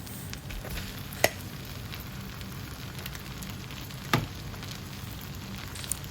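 Rice fries in butter and garlic in a hot pan with a soft, even sizzle, broken by a couple of sharp clinks and scrapes of a utensil, with no one speaking.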